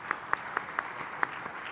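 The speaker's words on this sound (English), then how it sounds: "So big round of applause to the team" Audience at an Eaton GEIS manufacturing plant groundbreaking ceremony applauding the team: a thin, sparse run of about seven distinct claps at a steady pace, moderately near, with no talk.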